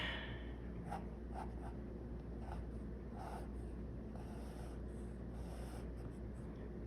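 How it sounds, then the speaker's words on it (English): A pencil scratches across paper while drawing, with soft, faint strokes repeating at an unhurried pace over a steady background hum. "we're going to draw Roxy"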